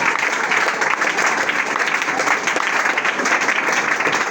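A congregation at a prayer meeting applauds loudly and steadily, with dense continuous clapping that fills the whole stretch without a break.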